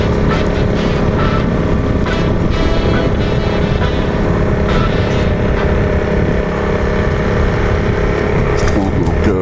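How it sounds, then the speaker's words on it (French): A Honda CRF 300L motorcycle on its stock exhaust runs with a steady, rough engine drone at fairly close range, under someone speaking throughout with occasional clicks and knocks. "la sonorité du pot d'origine n'est pas non plus désagréable"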